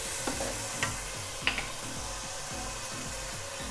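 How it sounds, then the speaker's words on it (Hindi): A spoon stirring a salted, spiced aloo matar pulao mixture in a pot, producing faint steady scraping with a few light knocks over a low frying hiss. "1 से 2 मिनट के लिए चम्मच चलाएंगे।"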